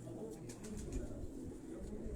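Soft pigeon coos murmur close by from a fancier's flock in Quetta, low repeated calls over a faint background hum.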